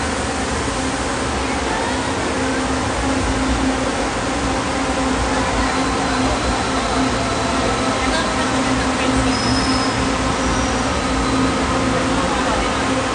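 Steady rumble of a light rail train in motion heard from inside a carriage, a constant low drone with faint hum, people talking quietly beneath it.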